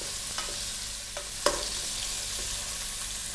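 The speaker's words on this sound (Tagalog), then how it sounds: "hipon at ang ating gulay, kailangan iprito natin sandali" Shrimp and vegetables frying briefly in a pan for pancit canton, a steady hiss of oil with a few light clicks of a utensil, one sharper knock midway.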